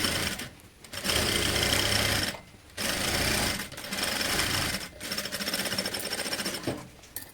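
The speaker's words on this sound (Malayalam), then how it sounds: "നമുക്കൊരു പതിച്ചൊരു സ്റ്റിച്ച് ഇട്ട് കൊടുക്കാം." A sewing machine runs a flat stitch along a kids top, close and steady whirring in several long bursts separated by brief stops.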